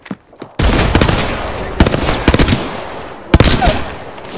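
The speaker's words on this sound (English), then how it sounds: "I am taking fire, friend. Contact with hostile." Loud, rapid gunfire in a video game comes in three sustained bursts of automatic shots, each cutting off abruptly, with a brief quiet gap before the first burst.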